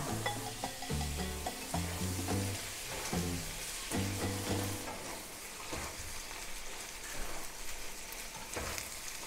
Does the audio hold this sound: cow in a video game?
no